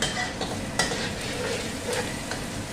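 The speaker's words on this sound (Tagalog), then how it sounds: "Haluin, haluin ang sibuyas at bawang." Onion and garlic stirred in a frying pan for chicken kare-kare, a steady close sizzle with scraping spoon strokes, alone with no talk.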